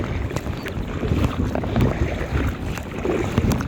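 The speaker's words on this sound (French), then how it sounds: "le vent il se lève en plus" Wind rising over the water while kayaking on the Saint Lawrence River near Île au Cerfeuil, a steady gusty rush buffeting the microphone with paddle and water splashes mixed in, loud and close, no voices.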